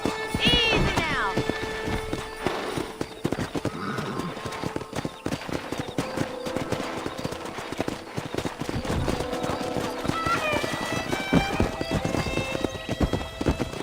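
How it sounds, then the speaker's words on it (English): Wild horses in the video game Red Dead Redemption, galloping hooves clip-clopping steadily throughout with sharp neighs and whinnies, a loud one near the start and more later, while someone talks and game dialogue plays over them. "That ranch hand said there's a pack of wild horses nearby."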